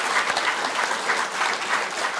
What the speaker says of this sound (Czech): Hele, potlesk pro vás